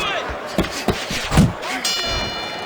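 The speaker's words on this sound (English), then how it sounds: "And the bell rings, signifying the end of the round." A boxing round-end bell rings in the Fight Night Champion video game, several sharp metallic clangs ringing out in quick succession over crowd noise, with a bright lingering ring at the end.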